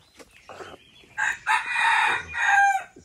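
A talisayin rooster crows once nearby, a loud drawn-out cock-a-doodle-doo following a few softer clucks and rustles.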